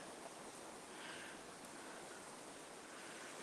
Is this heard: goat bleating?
no